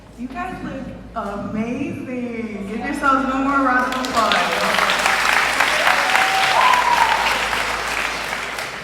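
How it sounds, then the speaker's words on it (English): Applause breaks out at an 8th grade graduation ceremony, following a voice in the first few seconds and then swelling into steady, loud clapping from the crowd for the rest of the clip. "Give yourselves one more round of applause."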